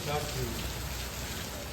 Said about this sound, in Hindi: बहुत तेज से बारिश हो रही है।